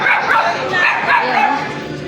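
A dog barks and yips close by in a few quick, loud bursts, mixed with voices talking over it.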